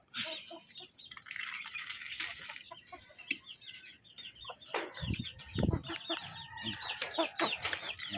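Chickens and chicks cluck and peep steadily at feeding time on a farm, with a rooster-like call among them; the flock is close and fairly loud, with busier bursts of clucking and some rustling near the end.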